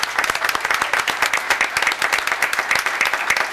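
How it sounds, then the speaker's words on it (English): An audience at a town board meeting applauds the Irondequoit High School boys basketball team, steady dense clapping filling the room at a loud, even level throughout with no talk over it. "Please give a round of applause for the boys basketball team of Irondequoit High School"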